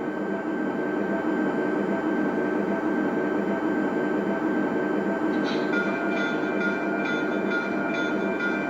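A model train runs along its track at a Halloween train display, a steady loud rolling rumble with faint rhythmic clicking that grows busier in the last few seconds, no voices.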